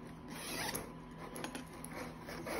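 A zipper slides shut on a small cosmetic bag, a close, light rasping run with a few faint clicks, heard alone without talk.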